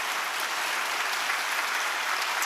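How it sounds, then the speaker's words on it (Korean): A church congregation applauds during a Sunday worship service, thanking performers for a musical piece, the clapping steady, dense and sustained throughout with no voices on top. "다시 한번 우리 귀한 연주 감사하는 뜻으로 박수하시겠습니다"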